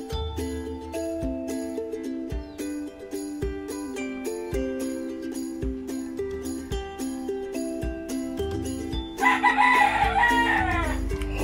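A rooster crows as a sound effect near the end, rising over a bouncy, plinking music track with regular beats, loud and close.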